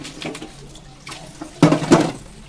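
Muddy katarua vegetables washed under plenty of running water, with a gentle splashing stream that gives way to two louder sloshing bursts near the end.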